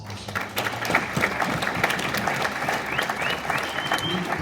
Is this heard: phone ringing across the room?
no